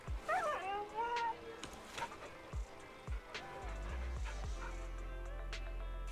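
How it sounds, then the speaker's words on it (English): Cartoon dog in the video game Zenless Zone Zero yips and whimpers in a few short rising cries near the start, followed by scattered game sound effects and a low droning backdrop. "What do you want, doggy?"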